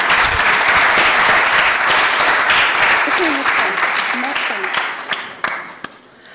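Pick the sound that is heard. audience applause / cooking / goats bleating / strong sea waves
audience applause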